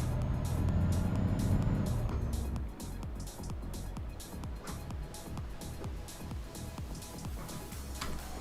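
Heavy road traffic in the truck driving game Euro Truck Simulator 2, with a steady engine drone and cars passing close by continuously, loud at first and then settling into a busy rumble with repeated whooshes.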